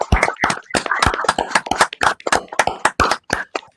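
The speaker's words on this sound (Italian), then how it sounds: "Potremmo fare un applauso? Ok. Un applauso." A small handful of people clap in an uneven, loosely timed rhythm to thank Dr. Bassleer at the end of a live aquarium hobbyist session, each clap distinct, close and fairly loud, with no talking over it.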